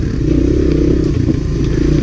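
A 1985 Honda Big Red ATV with an MBRP exhaust and Kenda Bear Claw rear tires rides a rocky trail, its loud close engine drone mixed with clattering and scraping from the terrain.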